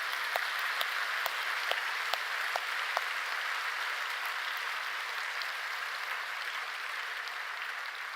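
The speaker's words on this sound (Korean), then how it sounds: "우리 박수로 한번 격려하겠습니다" Steady applause from a church congregation at a Friday night worship service, a broad even wash of clapping with a few sharper individual claps standing out early, moderately loud and sustained throughout.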